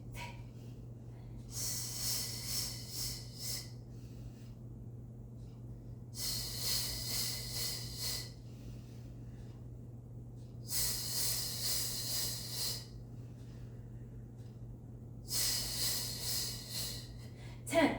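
Steady rhythmic breaths drawn in and pushed out during a core workout, four long airy bursts spaced a few seconds apart over a constant low hum, near and fairly loud.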